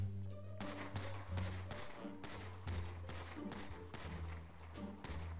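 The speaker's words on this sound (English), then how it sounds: "I hear a lot of gunfire." Rapid bursts of gunfire in the video game Grand Theft Auto V crack in repeated volleys against a steady low hum, some shots clustered quickly, heard at moderate distance.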